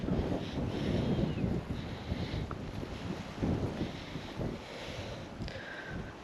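Wind gusts buffet the microphone on an exposed hillfort, a continuous low rumbling roar that swells and eases, with no voices.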